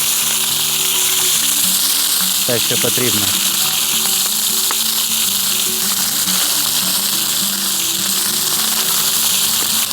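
Pieces of meat for ojakhuri sizzle and fry on a sadj pan over an open fire, a loud, continuous hiss with brief crackles and a short clatter, while a voice speaks briefly.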